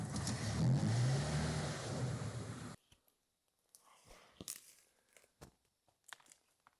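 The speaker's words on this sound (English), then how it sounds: "Now, this idle not staying steady, that's called an hunting idle." A car engine with a hunting idle, its revs rising and falling unsteadily: a loud, rough, continuous engine roar for a few seconds, then an abrupt drop to quieter, intermittent bursts and clunks.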